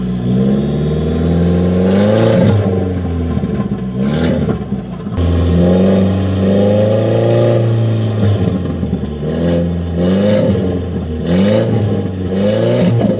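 An Audi TT Mk1 engine with a turbo revs repeatedly, rising and falling in pitch in several loud bursts, close by with no talking, after smoking.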